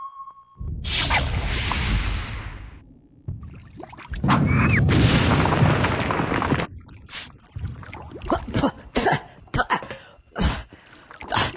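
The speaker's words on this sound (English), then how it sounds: "A Teddy Funkin U-47 intercontinental ballistic missile." Teddy Funkin U-47 missile in the Conker's Bad Fur Day war level, a loud rushing whoosh and roaring blast followed by a burst of sharp crackling debris and scattered impacts tailing off.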